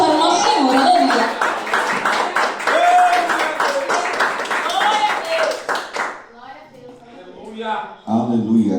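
Church congregation at a victory service clapping in a fast, loud steady rhythm, with voices singing or shouting over it, before the clapping stops and a single voice talks.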